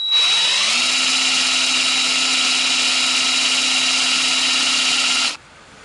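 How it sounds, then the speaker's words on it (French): Power drill boring a hole in the trunk hinge of a Citroën Traction 11B: a brief spin-up into a steady, loud, high-pitched whine held for about five seconds, then an abrupt stop, with no talking. "Percer bien au centre de l'axe."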